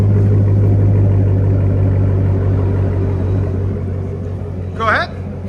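A 2015 Chevy Corvette with a 6.2L V8, high flow cats and a straight pipe idles with a loud, steady deep burble up close, and a brief chirpy sound near the end.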